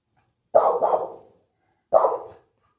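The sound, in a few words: dog barking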